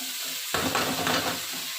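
Spice paste frying in a pan as more ingredients go in: faint background sizzle jumps into a loud, close hiss and crackle, then settles with stirring.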